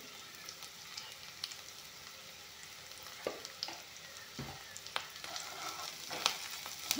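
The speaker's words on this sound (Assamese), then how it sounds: "এতিয়া এইখিনি অলপমান ভালকৈ ভাজি ল'ম" Panch phoron and rangura spices crackle and sizzle in hot oil, with occasional scraping and stirring clicks of a utensil against the pan, close by and fairly quiet.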